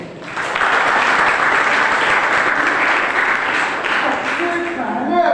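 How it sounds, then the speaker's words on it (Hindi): An audience claps together during a Hindi-language talk, producing a loud, even wash of applause that holds steady for over five seconds, with faint voices near the end. "तालियां बजाइए भैया।"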